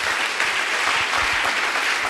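A church congregation claps steadily and densely for about two seconds, a wash of applause with faint voices mixed in.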